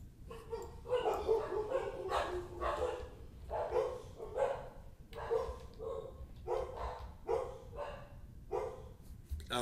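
Several dogs, four in one household, bark repeatedly in rapid, uneven bursts throughout, with occasional yips, moderately loud and somewhat in the background of a room.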